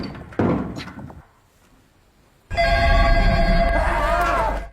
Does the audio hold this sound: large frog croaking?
no